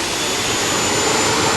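A modified pulling tractor in the 9,000-pound class, the Busch Green Monster, roars at full throttle at a 1989 NTPA pull in Atco, New Jersey, producing a loud, steady, turbine-like whine with no break.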